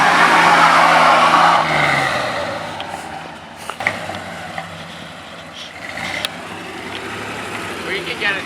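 A square-body truck spins its tires in a burnout, its loud engine roar rising and falling over several seconds with sharp mechanical bangs and squeals, close by under excited voices.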